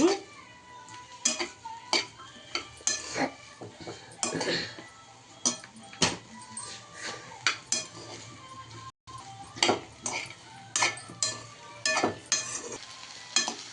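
A spatula scrapes and clinks repeatedly against a pan as onions sizzle steadily in oil underneath, the stirring strokes coming in an uneven rhythm.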